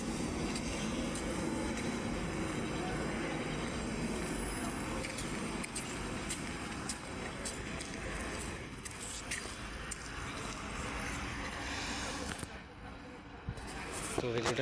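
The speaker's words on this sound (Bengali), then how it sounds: "এই ট্রেনটা যেতে না যেতেই দেখা যাচ্ছে পিছনে আজিমাবাদ এক্সপ্রেস আসছে" The Azimabad Express pulling into Tundla Junction station, a continuous loud rumble and rattle of rolling stock with a sharp squeal of brakes near the end, busy platform noise and voices mixed in.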